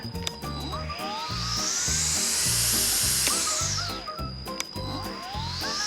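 An OSUKA OCBC 512 cordless electric grass trimmer spins up on speed one with a rising whine, holds a steady high-pitched motor hum and winds down again, close by, with no talking.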